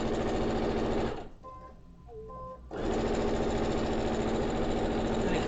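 A sewing machine stitches quilt fabric for a wonky Dresden block, a loud continuous close whir that stops for about a second and a half mid-clip, then resumes at the same steady pace.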